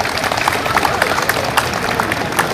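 A crowd claps steadily with a dense patter of many hands, loud and close, with faint voices mixed in, at an outdoor provincial government assembly in Kupang, East Nusa Tenggara.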